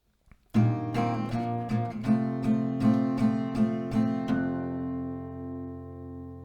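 An acoustic guitar strums a steady chord pattern up close, about a dozen crisp strokes in even rhythm, ending on a ringing chord that fades out.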